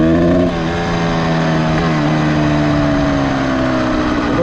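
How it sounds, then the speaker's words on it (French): A cold Honda CR250 two-stroke motorcycle engine runs close by, its buzzy idle shifting pitch with small throttle changes and a brief blip near the start, loud with no talk. "Le moteur est un peu froid."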